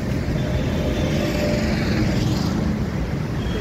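Vehicles queue and idle at a busy CNG filling station in Gurugram, giving a loud, continuous engine rumble and traffic drone nearby with no breaks and no talking.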